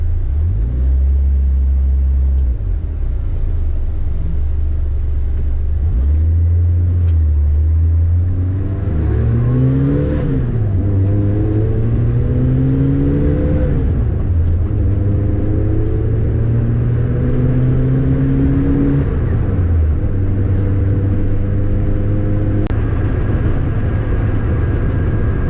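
A Renault R8 Proto, an old car fitted with modern ignition, runs with its idle speed raised; the engine drones loudly and climbs and falls through several blips of revs before settling back to a steady idle.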